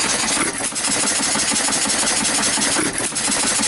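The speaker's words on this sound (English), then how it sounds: "The old John Deere motor going." An old John Deere engine runs steadily to drive homemade ice cream churns at an outdoor covered bridge festival, a loud continuous mechanical drone with a faint rhythmic knock, close and unbroken.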